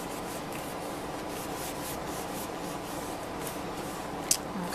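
A folded paper pop-up tissue-box card is burnished, giving a faint, steady rubbing and scraping of paper at close range.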